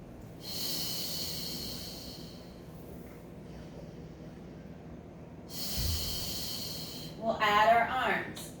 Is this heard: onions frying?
no